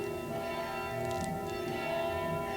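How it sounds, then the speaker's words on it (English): Faint, resonant church bells ringing their daily 6 o'clock peal at a distance, their sustained tones blending into a steady hum. "It's wonderful to hear church bells."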